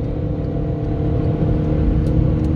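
A Chevrolet Cruze 1.4 turbo engine accelerates steadily, a constant loud low drone and whir heard from inside the car with no talking.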